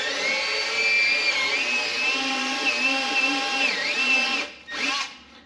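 Steady high-pitched grinding whine of a tire plug reamer cleaning and enlarging a puncture hole in a tire, continuous and close, with brief dropouts and a restart near the end.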